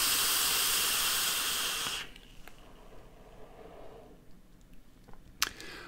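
A Vandy Vape Pulse BF box mod with a Kanthal micro coil and its airflow wide open lets out a loud steady airflow hiss for about two seconds, then stops, leaving faint background noise and a few small clicks.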